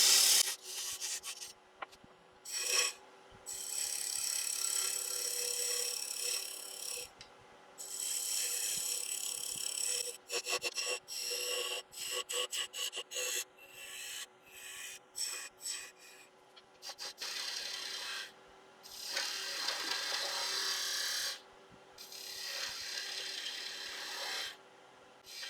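Wood lathe turning a small scoop handle from scrap log down toward the parting-off point: tool scraping and rasping against spinning wood in repeated passes with short pauses, close and steady, no talk.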